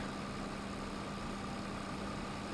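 A Massey Ferguson 35X multi-power vintage tractor engine idling, a steady, unbroken low rumble with an even hum that holds constant throughout, with no voices over it.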